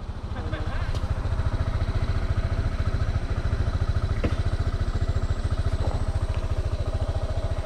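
Motorcycle engine running steadily with a loud, rhythmic low thrum close by during a charity ride scouting trip in General Nakar, with occasional clatter and some speech over it.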